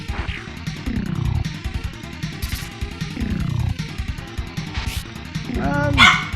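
Several dogs bark and yip in bursts at close range, loud and recurring across the stretch, over game music with falling tones.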